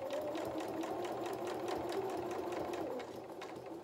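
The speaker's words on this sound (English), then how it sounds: "Hold that in place with your awl as you're sewing." A sewing machine stitches fabric for a soft toy Highland cow's head, its fast, even needle chatter running steadily at close range, easing slightly near the end.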